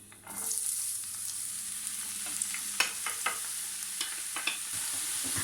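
Chopped red and green peppers with a large onion sizzling in a little oil in a frying pan, a steady close hiss broken by occasional stirring scrapes and soft clicks.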